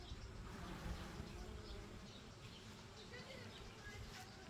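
Many honeybees hum in a steady, dense drone close to the hive, continuous and unbroken for the whole stretch.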